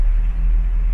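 A Ford F250 Highboy truck engine runs as a steady, loud, low rumble that holds evenly through one second, with no voices over it.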